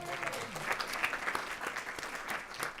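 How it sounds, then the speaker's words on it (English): Audience at a school board meeting claps for schools rising above F grades; a moderate, even patter of many hands continues for a few seconds at some distance, with a faint voice briefly underneath at the start. "Well, go ahead and clap for all of the schools being above those F grades,"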